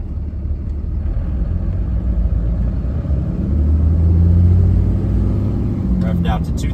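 A car engine drones steadily through a G56 manual gearbox with an organic single-disc clutch, its pitch rising as it revs to 2000 RPM and then dropping to 1200 after shifting to third, with a brief clatter near the end.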